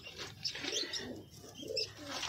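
Several pigeons coo in soft, throaty bursts close by, with a few chirps mixed in.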